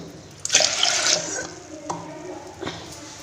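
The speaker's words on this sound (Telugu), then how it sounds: "పప్పు కడిగే కడిగేసాను సరిపడా వాటర్ పోసుకున్నాము" Water splashes and pours into a vessel of lentils for washing, a loud gush followed by a couple of shorter sloshing pours, close by with no talking.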